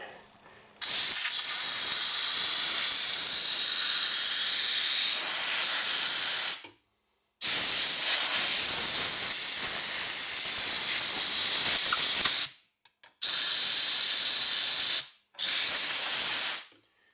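Compressed air blows hard into a gap where a leak will be sealed with silicone, coming in four loud, close hissing bursts separated by short silences, the first and second long, the last two brief.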